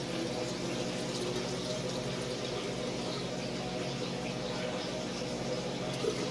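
Pure ethanol poured from a bottle into a sample container to the 750 millilitre mark for a benthic macroinvertebrate sample, a soft steady liquid wash running evenly throughout, close and quiet.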